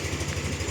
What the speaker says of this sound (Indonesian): untuk suara mesin juga halus nih